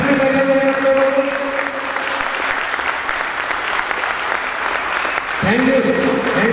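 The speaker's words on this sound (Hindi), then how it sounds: "मैं चाहता हूँ कि उनके सम्मान में एक जानदार ताली हो जाए" Audience applause at an award function in India, a sustained wave of clapping filling the hall, with a voice speaking over it and a tone entering near the end.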